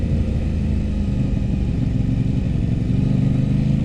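An Aprilia RS 660 sport motorcycle's parallel-twin engine pulling in first gear, a loud, continuous close-up drone with a steady low hum and no speech over it.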